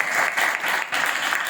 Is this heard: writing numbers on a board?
no